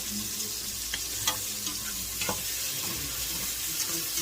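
Corn chowder ingredients sautéing in a pot, a steady close frying hiss with light stirring taps and scrapes, continuous with no talk.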